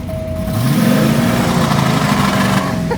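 A V8-swapped Porsche 944 engine revs hard after a water crossing, a loud, close, strained roar rising and holding steady with a rough mid-range growl and no voices.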